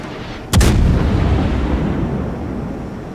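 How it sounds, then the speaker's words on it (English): A battleship's guns fire a single loud, booming salvo of HE shells in World of Warships, followed by a long rumbling tail that fades slowly, with no voices. "So I'm firing HE at it because I have a very good chance of fire"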